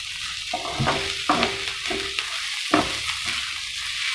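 Garlic and chilli sausages sizzle in a pan, a steady close frying hiss broken by several sharp utensil scrapes and clinks spaced irregularly.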